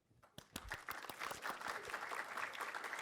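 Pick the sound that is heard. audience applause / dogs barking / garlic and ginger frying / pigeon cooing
audience applause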